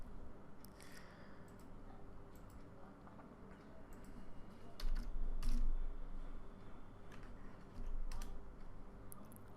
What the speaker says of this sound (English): I'm going to type something real quick